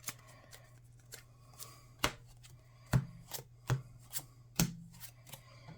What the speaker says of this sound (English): Now let's shuffle up, discard till I get an environment.